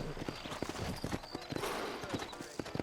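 Horse hooves clip-clopping at a slow walk on a town road in Red Dead Redemption, an uneven run of close, distinct hoof strikes under a faint background wash.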